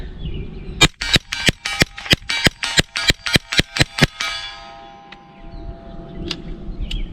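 Rapid gunshots from a Bear Creek Arsenal .22LR upper firing CCI rounds, about a dozen sharp cracks in a quick steady string, then a pause and two fainter, isolated shots.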